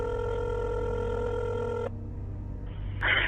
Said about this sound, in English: when Sarah Boone picked up her phone and dialed 911